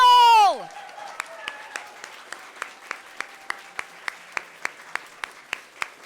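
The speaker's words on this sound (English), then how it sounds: "let's give a clap for Rachel" A poetry slam audience at a college event claps for a performer after a loud voice fades, settling into a steady, evenly spaced run of single claps that carries on for several seconds, fairly near.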